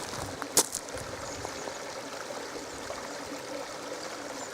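Natural spring water flows steadily from a holy well in rural Northumberland, a soft, continuous trickle heard up close, with one brief sharp knock early on and no voices.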